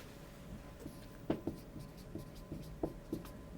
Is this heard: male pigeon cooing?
no